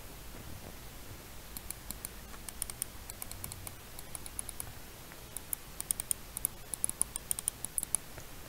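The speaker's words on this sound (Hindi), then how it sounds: "माउस में आप क्लिक्स की साउंड सुन सकते हो" An HP 250 wireless mouse gives quick, sharp button clicks in loose, irregular bursts, growing more frequent toward the end, close and crisp over a quiet room with no talking.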